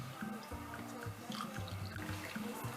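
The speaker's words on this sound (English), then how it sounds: "I'm just going to pour this one into the molds" Homemade fruit juice is poured into ice lolly molds, giving soft trickling and dripping liquid sounds in short repeated bursts, faint and close, with no talking.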